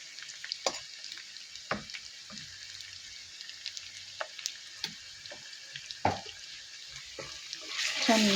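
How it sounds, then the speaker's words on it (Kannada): Ginger garlic paste frying in a pan for a chicken pickle, a soft steady sizzle with scattered spatula scrapes and clicks, close and fairly quiet. "ಚೆನ್ನಾಗಿ ಹಸಿ ವಾಸನೆ ಹೋಗೋ ತನಕ ಫ್ರೈ ಮಾಡ್ಕೊಳ್ಳಿ."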